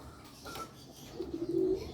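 Racing pigeons coo softly at a loft after landing from a training flight, a low murmuring coo that swells toward the end over faint background noise.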